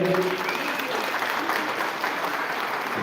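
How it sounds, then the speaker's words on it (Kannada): Applause from an audience at a large annual astrology institute event, dense and steady clapping that fills the whole stretch at fairly loud level. "ಜೋರ ಚಪ್ಪಾಳೆ"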